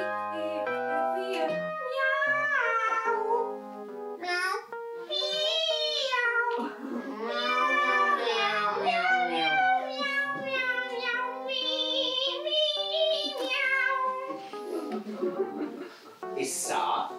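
A cat meows and yowls in long, drawn-out, wavering cries that come one after another for several seconds, loud and close, with brief pauses between calls.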